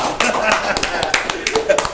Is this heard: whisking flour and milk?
no